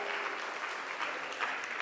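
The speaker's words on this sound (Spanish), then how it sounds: "Dale un aplauso fuerte al Señor." Church congregation applauding during a Spanish-language worship service, a thick, steady burst of clapping from a room full of people, close and uninterrupted, with no voices audible above it.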